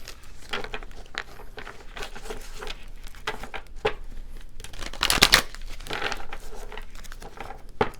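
A deck of oracle cards being shuffled by hand up close, a continuous papery riffling and patter with a louder burst of flicking in the middle.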